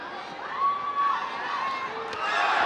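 Crowd cheering and shouting at a ONE Championship fight in Bangkok, a sustained roar of many voices rising in swells over a couple of seconds, with a commentator's voice faint in the mix.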